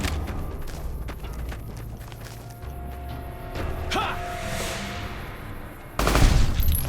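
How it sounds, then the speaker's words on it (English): Bursts of distant gunfire crackle through a Fallout: New Vegas game scene, scattered shots and rattling volleys with a louder close burst near the end, over quiet ambient sound. "I heard somebody shooting"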